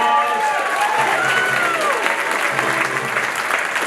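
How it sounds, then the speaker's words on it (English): A large crowd at an evening political event in Virginia gives a sustained round of applause with cheering, loud and continuous throughout, with a few raised voices in the mix. "Give Terry another great round of applause."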